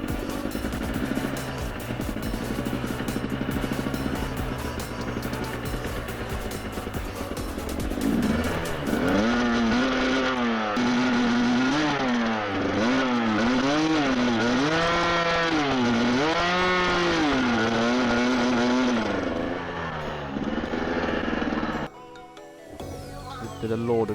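A two-stroke dirt bike rides a rough green lane, its buzzing engine rising and falling in repeated revs as it climbs, loud and close, before cutting off abruptly near the end.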